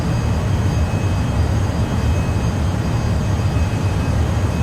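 SR-71 Blackbird jet engine in a flight simulator game, climbing at high speed: a steady, dense roar with heavy low rumble and broadband hiss holds unchanged throughout, loud and continuous with no voices.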